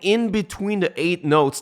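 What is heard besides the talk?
None of the usual background noises is heard.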